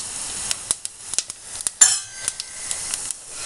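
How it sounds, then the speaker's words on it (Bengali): Bay leaf and five-spice tempering sizzling in hot oil in a pan: a steady high hiss of frying runs throughout, broken by irregular clicks and taps of a utensil against the pan, fairly close and loud, with no talking. "এখানে তেল দিয়ে দিয়েছি, হিটও হয়ে গেছে, ফোড়নে দিয়েছি তেজপাতা, আর দেবো পাঁচ ফোড়ন"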